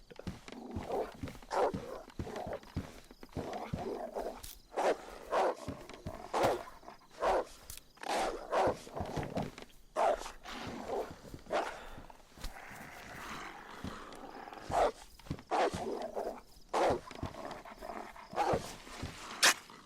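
A dog in the DayZ video game barks and howls in loud, repeated bursts, close and rhythmic, with short pauses between the calls.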